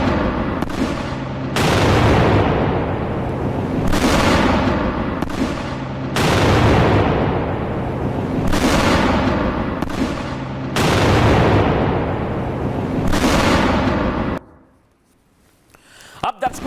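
Heavy booms go off one after another, about six deep blasts each trailing a rumbling decay, then sudden near silence with a few faint clicks.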